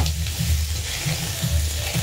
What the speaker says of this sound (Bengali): তেল গরম হয়ে গেছে, আমরা এবার আলুগুলোকে এক এক করে দিয়ে ভেজে নেব।